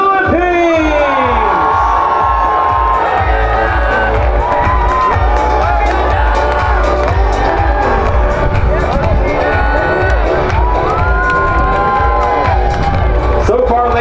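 Audience at the Miss Earth Philippines 2023 swimsuit competition cheering loudly for Miss Philippines, a sustained roar of shouts, whoops and screams from a large crowd throughout.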